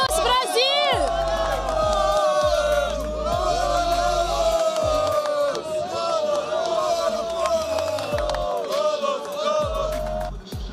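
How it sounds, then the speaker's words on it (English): Brazilian fans at a League of Legends esports event cheer, whoop and chant in a loud, dense crowd roar with repeated rising shouts, while a voice speaks over the din. "We have people cheering here, Brazilians here, everywhere."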